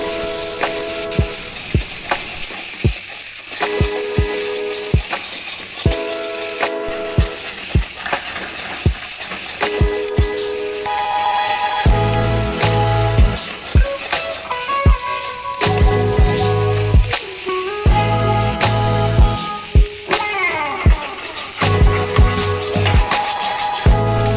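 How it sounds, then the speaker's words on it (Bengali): Green banana peel paste stirred and fried in a pan, with steady sizzling throughout and repeated scraping, clicking strokes of a utensil against the pan, close and fairly loud. "ততক্ষণ ভালো করে সেটাকে নাড়াচাড়া করে জলটাকে শুকিয়ে নিতে হবে।"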